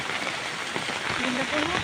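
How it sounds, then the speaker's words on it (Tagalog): Steady rain falls with a dense broadband patter, while a voice speaks faintly underneath. "Umuulan po ngayon."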